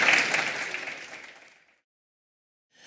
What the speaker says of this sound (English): Can I ask a big round of applause for our speakers?